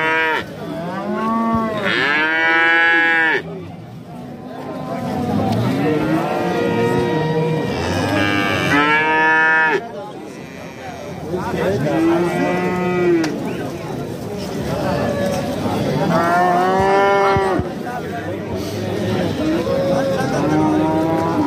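Cattle at a busy livestock market moo repeatedly, long loud bellows rising and falling every few seconds, some close and some farther off, over a constant crowd murmur and scattered voices.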